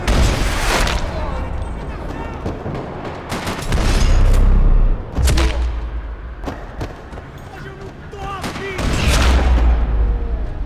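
Bursts of Max Payne 3 gunfire in a parking lot, rapid rattling shots and heavier booms in waves, loud and close, with voices mixed in.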